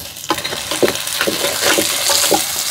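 Tomatoes tipped into a hot frying pan over onions and green chillies for a Nellore-style fish curry, giving a steady loud sizzle with scraping stirs and clinks throughout, close up and without speech.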